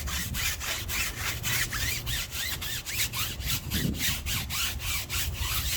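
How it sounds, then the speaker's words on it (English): Brush scrubbing a 2023 Toyota Corolla SE tire during a wash, quick regular back-and-forth rasping strokes, close and steady. "scrub down the tire"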